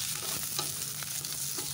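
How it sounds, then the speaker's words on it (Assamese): Bottle gourd skin frying in hot mustard oil on a high flame, a loud, continuous close-up sizzle with crackling pops and occasional stirring scrapes, no voices. "মই হাই ফ্লেমতে এইখিনি ভাজি ল'ম"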